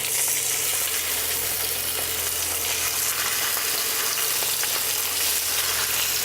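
A barramundi fillet laid skin side down in a smoking hot pan sizzles loudly and continuously, a dense close crackling hiss with no talking.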